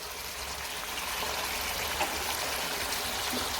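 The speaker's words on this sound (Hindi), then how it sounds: "अब मैं इसके अंदर हाफ कप गर्म पानी का डालेंगे हम" Half a cup of hot water being poured into a pan of fish curry, a steady soft trickling and splashing that runs unbroken for several seconds at moderate loudness.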